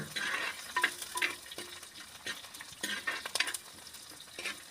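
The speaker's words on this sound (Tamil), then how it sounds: "கூடவே கருவேப்பிலையும் போட்டுக்கலாங்க வரமிளகா போட்டு நல்லா வதக்கி விட்டுடலாங்க" Curry leaves and dried red chillies sautéing in a pan among onions, with intermittent stirring scrapes and clinks of a utensil over a steady low sizzle, close and moderately loud, no voices.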